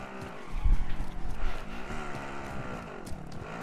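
A vehicle in Call of Duty Warzone revs and drives off with wavering engine pitch and a brief tire skid, moderately loud with shifting gear tones.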